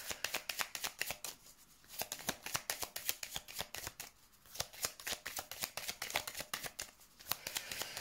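Lenormand cards are shuffled by hand in a steady run of crisp riffling flicks, pausing briefly between bursts, close and clear with no talking.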